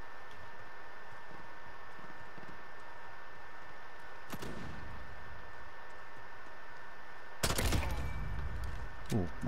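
Gunfire in Modern Warfare's gun game mode: one short, sharp burst midway, then a heavier, louder volley near the end with a few trailing shots, all over a steady game background hum.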